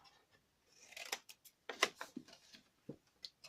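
Scissors snipping small wedges into papercraft card for a chocolate orange gift box, a quick series of close, crisp cuts in irregular bursts with short pauses between.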